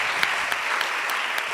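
Audience applause at a lecture on peace education and nuclear disarmament, a dense steady patter of clapping hands with a few sharper claps standing out, close and full throughout.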